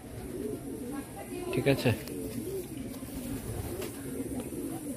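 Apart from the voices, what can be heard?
female Madrasi pigeons cooing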